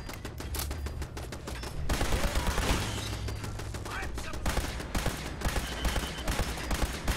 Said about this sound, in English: Oh god, there's a turret.